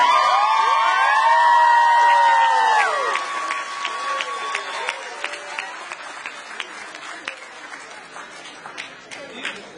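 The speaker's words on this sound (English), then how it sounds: "I think all these graduates definitely deserve another round of applause." A commencement crowd applauds graduates, with loud cheering and shouted whoops over dense clapping at first, then thinning to scattered claps and calls as it fades.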